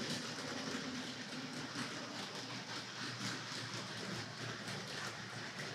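Hornby GWR 0-4-0 tank locomotive model train pulling four-wheel coaches along the track, a steady soft whirring and rattling rumble with faint rhythmic clicks, continuous and fairly quiet.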